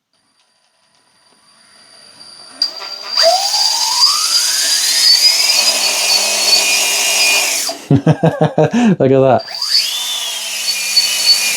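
An FCX10 Pro V2 Toyota LC80 RC crawler's electric motor spins up in first gear to a loud, rising whine, holds steady, then stutters in quick bursts before revving back up; a voice speaks briefly.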